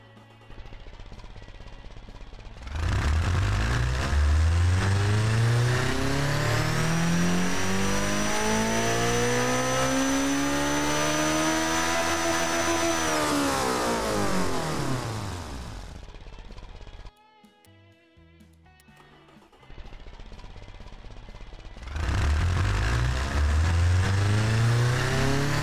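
A four-cylinder engine in the Automation car-building game revs on a dyno, climbing loudly through the range and holding, dropping back to a rough idle, then revving hard again. No talking over the engine.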